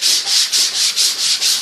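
Close-up hand sanding of a car fender, a loud steady back-and-forth rasp with about seven even strokes in quick rhythm, with no voices.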